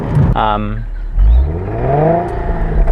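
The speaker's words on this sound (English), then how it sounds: "hear the exhaust from outside, I'll put a clip in because I think I've got one" Car exhaust revving as heard from outside the vehicle, a rising and falling engine note swelling twice across a few seconds, with a short burst of speech-like sound near the start.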